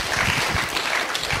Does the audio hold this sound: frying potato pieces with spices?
no